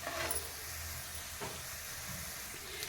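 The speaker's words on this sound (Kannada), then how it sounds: "ಸ್ವಲ್ಪ ಇದು ಫ್ರೈ ಆಗಲಿ." Cumin seeds, about half a tablespoon, frying in hot oil for a quick black-eyed pea stir-fry, giving a steady soft sizzle and hiss throughout with a faint stir or clink early on.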